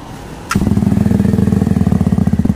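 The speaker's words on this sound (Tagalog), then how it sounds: "51mm universal muffler, R11 muffler mga boss, shorty edition. Okay? So sound check natin ulit." A Qjmotor SRV200 motorcycle fitted with a 51mm R11 shorty slip-on muffler and dB killer starts up close by, settling into a loud, rapid, pulsing exhaust burble.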